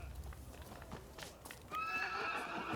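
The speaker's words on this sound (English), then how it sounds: "You obtained chestnut horse." A chestnut horse in the video game Rise of the Ronin gives a short, clear whinny with faint hoof clops, close and loud against a quiet background.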